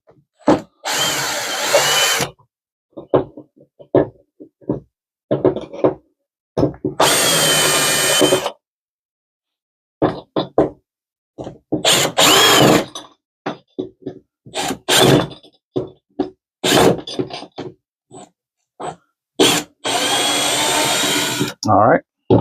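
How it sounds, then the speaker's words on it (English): A cordless power drill backs screws out of a kayak seat track, close and loud, in repeated bursts of whining motor with short gaps of silence between them. "So we'll take and loosen these screws up in here."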